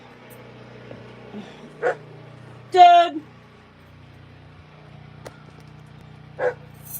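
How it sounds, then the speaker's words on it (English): A dog gives a few short barks and yips, quite close, spaced out between pauses. A person speaks briefly over a quiet room background. "Oh my god, the dog."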